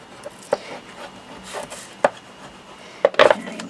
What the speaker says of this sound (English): let's just burnish those down